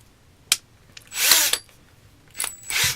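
A power drill fitted with a bit from a 50-piece set bores through a 2x4, heard as short whirring bursts at about 0.5 s, a longer loaded run around 1.1–1.6 s, then two more bursts near the end, close and fairly loud.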